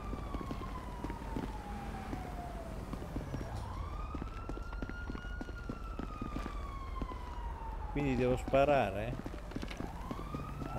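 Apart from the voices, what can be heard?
police siren in the video game GTA 5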